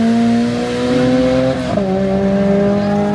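A Honda Civic race car accelerates hard in a drag race, its loud, rising engine howl climbing steadily, dipping briefly at a gear change, then climbing again.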